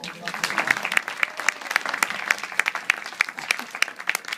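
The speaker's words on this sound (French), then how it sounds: "je voudrais qu'on applaudisse très fort" Audience at a theatre festival evening clapping in a lively, uneven burst of individual claps, close and fairly loud, with some murmuring voices mixed in.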